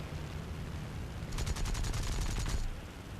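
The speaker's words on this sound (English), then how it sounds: "Shoot some machine gun to freak him out." Aircraft machine gun bursting from an A6M2 Zero fighter in War Thunder, a rapid rattling volley of about a second over steady engine drone.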